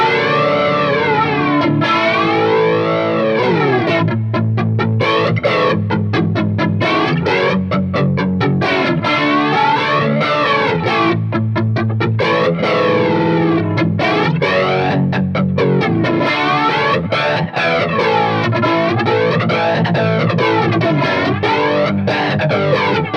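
Electric guitar through a Mr. Black Mod.One analog chorus/flanger pedal on a hyper triangle waveform: sustained distorted chords with deep, sweeping jet-like flange swirling up and down continuously, loud and close, without speech.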